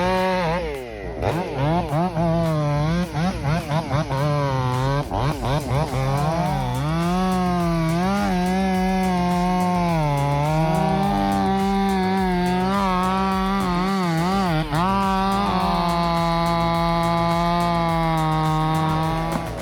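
A 5.0 kg chainsaw with electronic fuel injection felling a giant cedar, its engine screaming loud and close throughout, the pitch dipping and rising as the chain bogs into the wood and revs back up.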